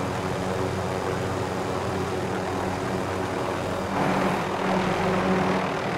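Helicopter in Call of Duty gameplay, a steady loud rotor and engine drone running continuously, swelling slightly near the end.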